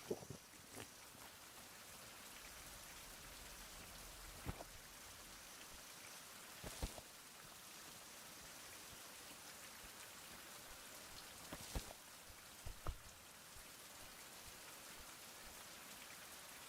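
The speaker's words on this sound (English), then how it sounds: "And it's raining." Quiet, steady rain patters in a survival video game, a soft continuous hiss with a few sharper drops and faint low rumbles, and no voices.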